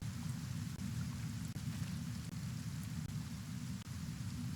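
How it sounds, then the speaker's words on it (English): Steady rain in the video game Kenshi, a constant close hiss with soft low rumbles of thunder and brief dips throughout. "This damn rain burns."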